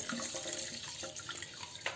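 Water poured over coriander seeds being washed in a strainer, a short close splashing pour with little trickles and clinks, steady and fairly quiet, without talk.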